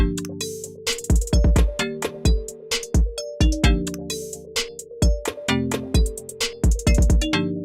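A punchy trap beat with booming bass hits, crisp snares and extra percussion clicks tucked between them, over a looping melodic synth pattern.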